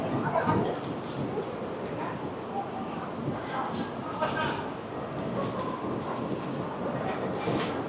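Bullet train at a busy Osaka station, a steady broadband rumble and hiss of rolling carriages filling the whole stretch, with crowd noise and faint voices mixed in underneath.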